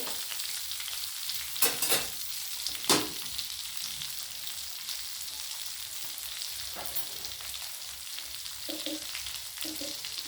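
Chopped onion frying with crabs in a hot pan makes a quiet, continuous sizzle, broken by a few sharp spatula clacks and scrapes.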